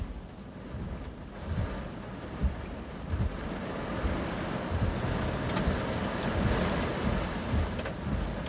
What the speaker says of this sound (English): Big time wrapping rain.